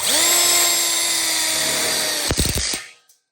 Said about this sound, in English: we'll go ahead and lock that one in with a screw